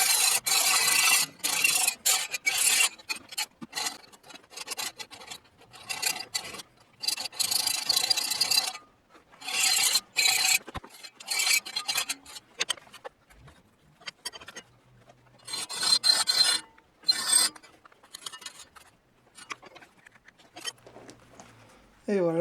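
A small triangular hand file rasps against a workpiece for a homemade shield in repeated bursts of strokes with short pauses, close and fairly loud, while someone speaks at times.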